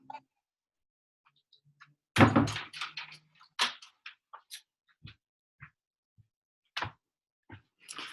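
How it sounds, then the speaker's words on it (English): An indoor house door is shut and locked: a few quiet thuds and clicks, with one firmer knock-like bang in the middle, then scattered small taps amid near silence and no talk. "I've locked the door."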